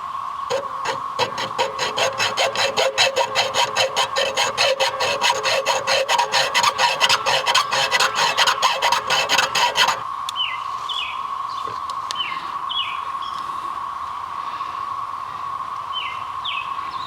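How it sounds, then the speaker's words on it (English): A hacksaw cuts through electrical cable during house wiring, with rapid, regular back-and-forth rasping strokes for about ten seconds before stopping, leaving a steady hum and faint chirps. "I'm resorting to the old trick of the hacksaw"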